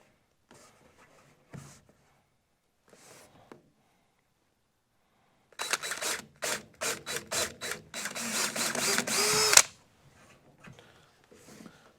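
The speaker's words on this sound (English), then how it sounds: "Drilling through this stuff, you got to be a little careful the drill bit doesn't just grab the material and rip it" A drill bites into soft shower curtain panel material in a run of short, harsh bursts, then a longer continuous grind before it stops. Faint handling noises come before and after in an otherwise quiet room.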